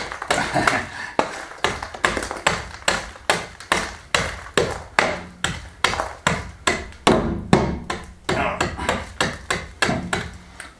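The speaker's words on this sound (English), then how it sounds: "get this wax off. A lot of whacking off to do in here." Old wax is whacked off a surface in an old kitchen, with a steady series of sharp, loud hammer-like knocks, about two per second, close and continuous.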